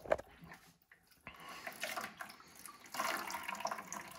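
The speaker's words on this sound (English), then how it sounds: "And you'll notice we have a steady stream of water coming out again." Water siphoning in a steady stream out of a Kinetico pre-filter housing, a continuous splashing flow that swells and thickens toward the end, close by with no talk.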